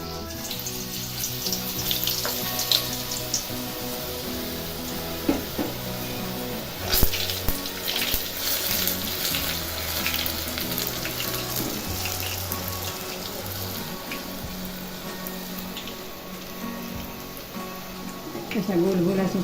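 Boondi batter dropping into hot oil for boondi ladoo, a continuous crackling sizzle with bubbling, steady and close, while someone talks over it.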